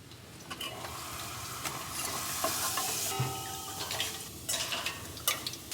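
French fries sizzle and crackle in hot oil, with scraping and stirring clatter of utensils against a pan throughout.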